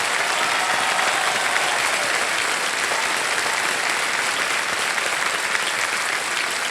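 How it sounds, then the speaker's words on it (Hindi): Loud, sustained studio audience applause fills a game show set on KBC (Kaun Banega Crorepati) Season 15, dense and even clapping from a large crowd throughout with no pauses. "जोरदार तालियां बज जाए"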